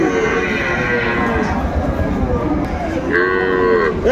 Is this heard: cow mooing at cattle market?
yes